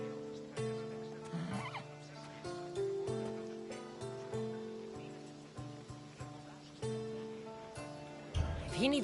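A horse whinnies and snorts over clip-clopping hooves in Assassin's Creed Odyssey, with a loud neigh near the end and a voice and ambient game sound throughout.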